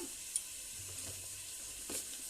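Spices and cinnamon frying in a pan for a fish curry, a quiet, even, close sizzle with a couple of faint stirring taps and no voices.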